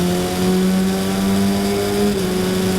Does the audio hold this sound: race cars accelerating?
yes